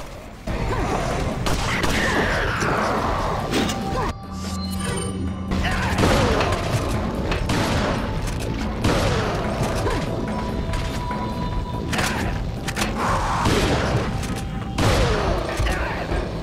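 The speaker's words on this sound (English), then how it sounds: "These Ganado regularly die with a couple pistol shots or a single headshot from the shotgun." Pistol and shotgun gunfire from Leon fighting Ganado and a Super Salvador in Resident Evil 4 Mercenaries: loud, repeated shot bursts amid clattering in-game mechanical noise, continuous for the whole stretch with no talking.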